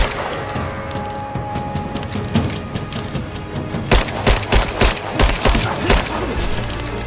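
Rapid gunfire in a Rise of the Tomb Raider shootout, building from scattered shots into a tight run of loud, close bursts in quick rhythm, layered with crashing impacts and a busy low rumble.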